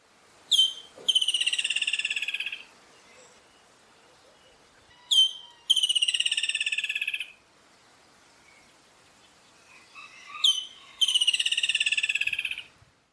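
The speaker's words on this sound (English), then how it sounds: "Then the woodland kingfisher," Woodland kingfisher calling in Southern African bushveld, three separate phrases a few seconds apart, each a sharp opening note followed by a descending trill, fairly close and clear over a quiet background.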